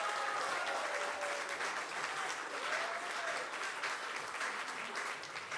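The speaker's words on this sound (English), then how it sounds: "Can we make one big round of applause for them?" Sustained applause fills a city council meeting chamber as an audience claps steadily and fairly loudly throughout, a dense continuous patter with faint background voices.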